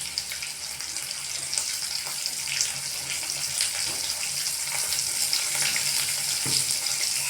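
Chopped green chillies frying in hot oil with garlic paste in a pan for dal palak, a steady close crackling sizzle running throughout with no one speaking.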